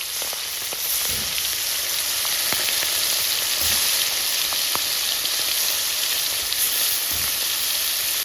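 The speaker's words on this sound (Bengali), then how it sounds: "পটল ভাজা হয়ে গেছে, এখন চিংড়ি মাছগুলো ভেজে নেব।" Shrimp frying in hot oil after pointed gourd, a continuous loud sizzle with scattered crackles and occasional stirring clicks, close up and without speech.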